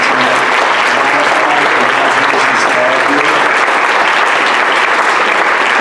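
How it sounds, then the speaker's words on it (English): A board of education meeting audience applauds student athletes and coaches, a loud, sustained wash of many hands clapping together from start to finish, with faint voices murmuring beneath. "how about a big round of applause for all the student athletes and coaches that came out tonight"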